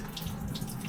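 A kitchen tap runs steadily while vegetables such as potatoes and onions are washed for curry, a close, even splashing stream with no pauses.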